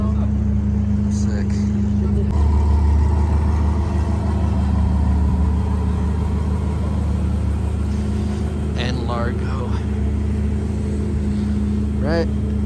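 A Lamborghini engine idles and rumbles steadily at close range in Tokyo, a low continuous drone with a faint higher whine, while people talk over it.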